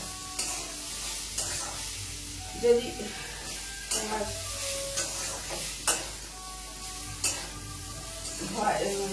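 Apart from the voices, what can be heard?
yardlong beans frying and being stirred in a pan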